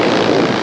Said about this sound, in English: Warmed up the engine good.